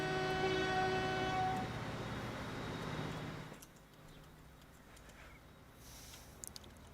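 A train in the Transport Fever 2 video game sounds its roof-mounted air horns as a chord-like blast for about a second and a half. A rolling rumble follows and fades to a faint background hum.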